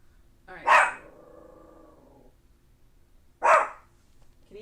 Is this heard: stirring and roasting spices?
no